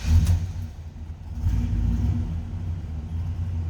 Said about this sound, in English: a nice deep throaty rumble to it.